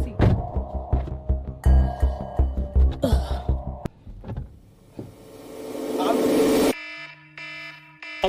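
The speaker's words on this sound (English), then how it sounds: "Shut that alarm off." A steady electronic alarm tone sounds for about two seconds near the end, inside a car in its back seat, after stretches of loud music and voices.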